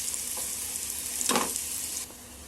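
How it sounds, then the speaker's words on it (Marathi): Chopped onion and a ground masala paste fry in a pan, a dense steady sizzle with one brief scrape of a spoon stirring, close and unaccompanied by speech. "कांदा थोडा अजून फ्राय करून घ्यायचा आहे"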